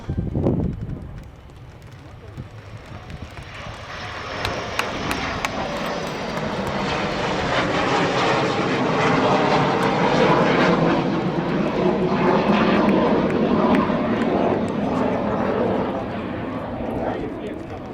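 Suryakiran aerobatic team jets flying a missing man formation at the Aero India airshow, a broad jet roar swelling in from a distance and peaking loudly mid-pass before easing, with wind buffeting and a public-address announcer speaking over it.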